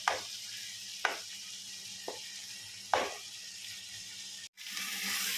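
A banana flower dish sizzles in a kadai and gets stirred, with several sharp scraping strokes of the spoon against the pan over a steady, quiet frying hiss.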